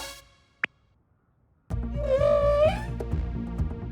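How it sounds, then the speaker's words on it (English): Distress call of a humpback whale: a long, loud, wavering moan that rises and bends over about two seconds, layered over a low droning rumble, preceded by a brief faint chirp. "What you're hearing is a distress call of the last humpback whale."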